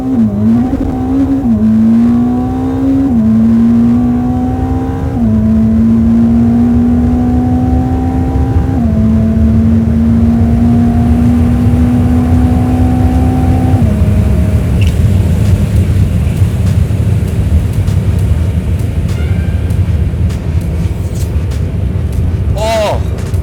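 A 1000 hp Ferrari SF90 Stradale hybrid accelerates hard through several gears, its loud engine tone climbing and stepping down at each shift, then fading into a steady roar near the end.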